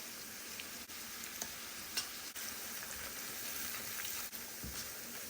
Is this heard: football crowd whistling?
no